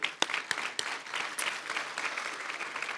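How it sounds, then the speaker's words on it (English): Audience at a chamber of commerce awards dinner breaking into applause, a crowd of many hands clapping steadily with a few sharp, louder claps near the start, moderately distant. "let's give each other a round of applause and celebrate that we're here"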